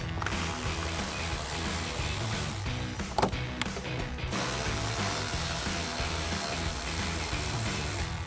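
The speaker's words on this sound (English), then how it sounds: "we're gonna grab our ratchet and T15 socket and take those 3 out" A ratchet with a T15 socket turns out wheel liner screws on a 2016–2024 Camaro, giving a fast, continuous close clicking with a short pause midway.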